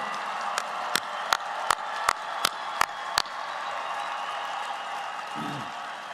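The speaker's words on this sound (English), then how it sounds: "join me in giving a round of applause to all the special people who have been there for you every step of the way" A large crowd applauds at a university commencement ceremony, honoring families and friends with a dense, sustained wash of clapping. Several sharp, louder individual claps ring out near the front early on before fading back into the broad applause.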